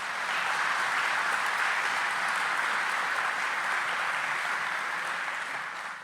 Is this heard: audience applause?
yes